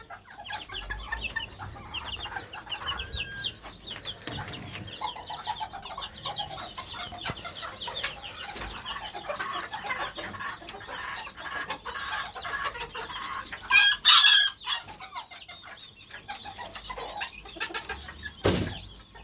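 Pheasants being fed cluck and chatter continuously at close range, with overlapping calls, a brief louder burst partway through and occasional faint flutters.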